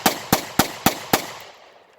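Five sharp, loud pistol shots from a Bond Arms Bullpup fired in fast, even succession, each a hard crack, with a short ringing tail fading after the last.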